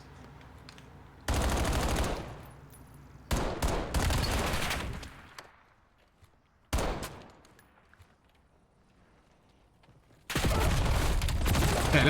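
Automatic weapon fire in the video game Black Ops 7 comes in four loud sustained bursts, with quieter gaps between them where a faint background hum remains.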